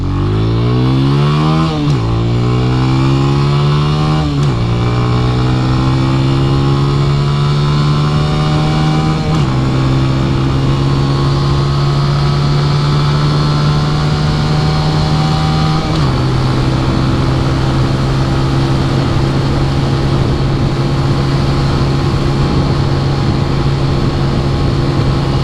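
A 2021 Benelli TNT 135 motorcycle accelerates hard through several gear shifts, each rising whine dropping at the change, then holds a loud steady top-speed drone with rushing wind, close and alone.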